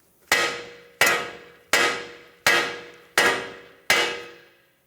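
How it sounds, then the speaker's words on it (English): Six sharp metallic hammer blows on the steering knuckle of a Ford Focus, freeing the tie rod, ring out at an even pace, each striking hard and then fading quickly. "use a hammer right here"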